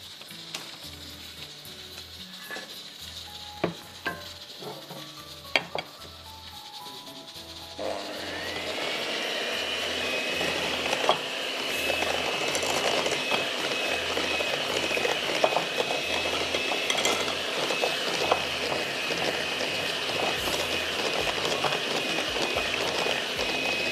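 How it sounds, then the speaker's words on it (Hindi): An electric mixer whirs steadily through carrot bread batter as eggs are beaten in, loud and continuous after a few quieter scraping and clinking kitchen sounds at the start. "इसको हम थोड़ा बीट करेंगे, फिर हम इसमें एक एक अंडा करके 4 अंडे डालेंगे।"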